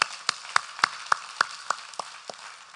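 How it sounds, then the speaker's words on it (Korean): A church congregation claps in unison, about ten sharp claps on a steady quick beat that gradually soften toward the end, with no talking over them. "우리 하나님께 박수 올리겠습니다"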